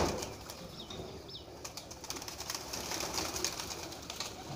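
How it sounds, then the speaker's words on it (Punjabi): Racing pigeons released from a loft in Amra Kalan flutter overhead, with faint wing flaps and soft bird sounds in a quiet outdoor setting. "ਅੱਸੂ ਦੀ ਤਿਆਰੀ ਵਾਸਤੇ ਇਹਨਾਂ ਨੇ ਕਬੂਤਰ ਕੁਝ ਉਡਾਏ ਨੇ ਆਪਣੇ"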